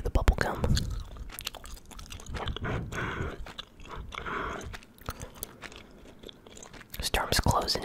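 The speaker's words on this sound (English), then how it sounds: "at least I can chew the bubblegum." Close, wet chewing of bubblegum, with repeated soft smacks, crunchy bites and mouth clicks, irregular and intimate, recorded up close against quiet gaming sounds.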